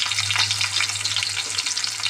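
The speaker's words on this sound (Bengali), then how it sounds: "দেখো ওলগুলো একদম সুন্দর করে ভাজা হয়ে গেছে।" Elephant foot yam pieces sizzle and crackle in hot oil, a loud, continuous close-up frying hiss with a low steady hum beneath.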